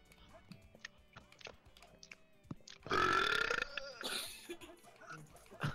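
A person burps loudly and harshly in imitation of Metal Sonic, a raspy burst lasting about a second followed by a shorter grunt, after quiet clicks and faint talk.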